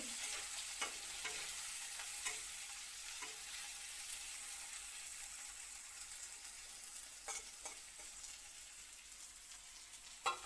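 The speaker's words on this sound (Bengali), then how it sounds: "পেঁয়াজগুলি ভালো করে ভাজা করতে লাগবো" Onions frying in a wok crackle and hiss continuously while a spatula scrapes and stirs them in occasional sharp strokes, close and steady throughout.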